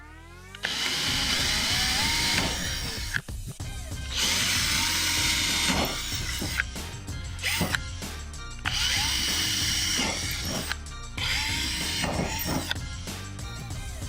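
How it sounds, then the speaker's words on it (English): A power drill with a small bit drills pilot holes for installing an intake on an Acura NSX, whining loudly in several separate bursts, each a few seconds long, with short pauses and clicks between them. "starting off with a smaller drill bit just to make pilot holes"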